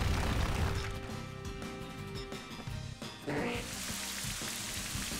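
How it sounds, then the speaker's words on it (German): Rain begins to fall in the video game Pokémon Purpur, a soft hiss of rainfall that swells and spreads across the scene, steady and fairly close, with layered game sounds and music underneath. "Es fängt an zu regnen."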